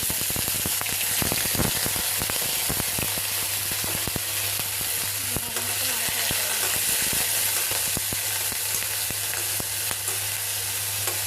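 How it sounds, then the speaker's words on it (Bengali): Raw papaya and potato pieces fry together in a spice paste for a vegetable curry, a steady dense sizzle with scattered crackles and spoon scrapes running throughout, close and loud with no voices. "পেঁপে আলু দিতে একসাথে দিয়ে দিচ্ছি"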